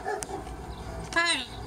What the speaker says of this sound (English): He's a big doggy, huh?